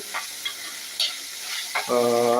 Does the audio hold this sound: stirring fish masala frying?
yes